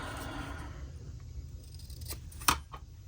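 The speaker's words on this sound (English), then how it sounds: "Steph, let's trim off the edges." Scissors snip through paper edges, trimming a masterboard sheet for a collage project: soft rustling, then two or three crisp cuts, one sharp and close near the end.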